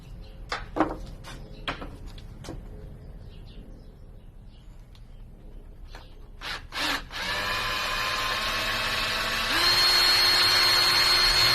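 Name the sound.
power drill drilling holes in wood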